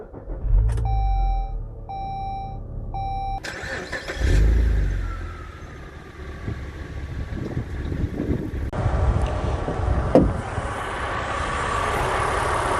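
A Saab 9-3 Aero with a 2.8 liter V6 starts after a few chimes, then idles and revs up with a rising engine note, heard close in a windy outdoor setting.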